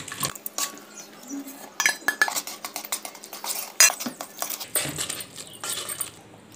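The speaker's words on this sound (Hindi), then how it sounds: "बस इसे खूब अच्छी तरह से ऐसे फेटेंगे" Wheat flour batter for gulgula is beaten in a bowl, a busy run of quick clinking and tapping strokes against the sides, close and uneven, with short pauses between bursts.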